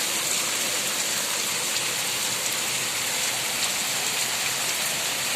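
Steady rain pours onto surfaces nearby in an unbroken, even hiss of dense drops, moderately loud and alone for several seconds.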